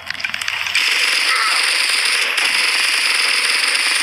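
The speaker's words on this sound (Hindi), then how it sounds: "गोली चलने की आवाज़ तो सुनाई दे रही है" Dense, sustained crackling gunfire from the mobile shooter game Bullet Echo starts up after a few scattered shots and continues loudly and without pause to the end.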